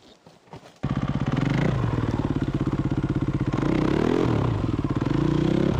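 A Yamaha WR250 enduro motorcycle is pulled around by hand with clattering, then its engine fires up and runs loud and close, idling with a steady pulsing beat and a brief rev in the middle.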